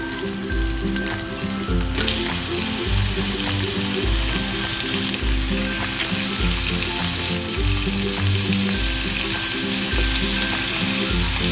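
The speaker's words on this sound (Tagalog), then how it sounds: "masarap to pag ginigisa sa kamatis yung tahong" Mussels sautéing with tomato in a hot pan give a loud, continuous sizzle close up, overlaid by a steady, regular rhythm of stirring and scraping that repeats about every second, with no talking.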